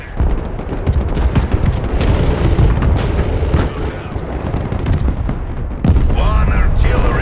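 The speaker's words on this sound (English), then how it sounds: "Here comes the enemy artillery." Heavy enemy artillery barrage in the Broken Arrow strategy game, a continuous rumble of booms and blasts with sharp impacts throughout and a louder burst near the end.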